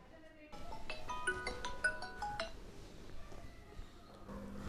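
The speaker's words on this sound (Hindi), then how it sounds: "आपका फ़ोन आ रहा है।" A phone sounds in a hospital with a series of electronic tones and beeps that start after a brief pause, fairly clear over steady background noise and fading out toward the end.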